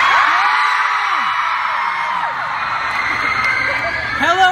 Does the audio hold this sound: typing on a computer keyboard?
no